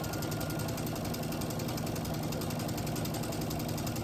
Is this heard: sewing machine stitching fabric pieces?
yes